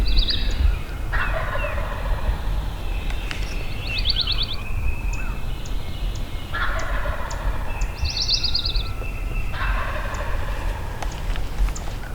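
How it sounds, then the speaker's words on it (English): A wild turkey in the South Carolina woods gobbles loudly and repeatedly in sharp, rattling bursts every couple of seconds, with no talk, over a steady outdoor background. "We got this one gobbling, and then we just heard one back across the road"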